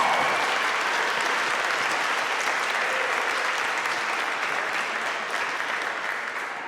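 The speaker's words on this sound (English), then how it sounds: "we just want to give a round of applause." Sustained applause from a crowd, a dense even wash of clapping that holds steady and fades slightly toward the end.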